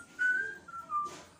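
A person whistles a short, clear two-part tune, close and fairly quiet, lasting just over a second with no talking.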